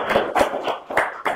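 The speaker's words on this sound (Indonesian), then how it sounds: "kita berikan tepuk tangan untuk IPI." A handful of separate, close claps from a small group at a podcast recording on school waste management, sounding as five or six distinct hits in an uneven rhythm.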